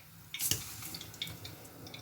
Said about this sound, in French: Et ici, dans mon eau, je vais verser le riz.